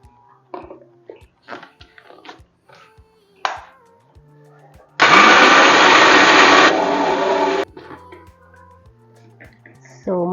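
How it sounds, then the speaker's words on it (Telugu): A kitchen mixie grinds split black gram with husk coarsely for kids' laddu. A loud whirring roar runs for about three seconds, with a voice talking and light kitchen clatter before and after. "నెక్స్ట్ ఇది పొట్టుపప్పు కూడా మిక్సీ పట్టేసుకుందాం"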